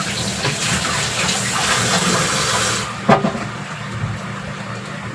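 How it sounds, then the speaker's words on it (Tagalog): Tap water runs hard and continuous while hands are washed, then cuts off after about three seconds, followed by a sharp clunk and faint drips and handling sounds. "maghuhugas ako ng kamay"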